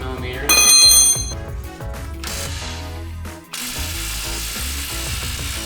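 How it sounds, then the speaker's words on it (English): An impact wrench runs on the 18mm lower rear shock bolts of an Audi RS3. A loud rattling burst gives way to steady mechanical whirring and clatter throughout. "the first thing we'll do is use our impact on these 18mm bolts on the bottom of the arm"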